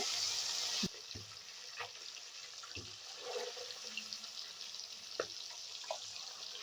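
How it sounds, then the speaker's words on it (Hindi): Rohu fish pieces fry in hot oil with a loud hiss that drops to a steady, softer sizzle, broken by scattered sharp pops and crackles. "ये हमारा तेल गरम हो चुका है। अब इसमें हम एक एक करके डाल देंगे पीसेस को।"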